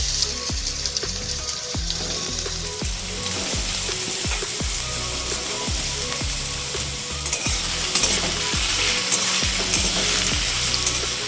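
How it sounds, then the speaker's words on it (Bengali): Thinly cut potatoes fry in hot oil for a vegetarian chow mein, a steady dense sizzle with repeated scraping stirs knocking through it at a fairly even pace, loud and close with no talking. "আলুগুলোকে লো টু মিডিয়ামে আমি ভেজে নেব"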